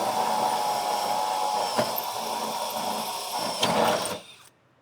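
A power drill drives a self-tapping screw through layers of sheet metal while mounting battery brackets on a golf cart, a steady high whine running for about four seconds with brief catches as each layer gives, then winding down.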